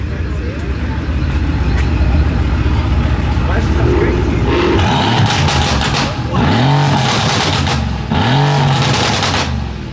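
BMW F80 M3 revving at a busy outdoor Christmas car meet, loud engine roar rising in a couple of sharp throttle blips over a steady rumble, with people talking close by.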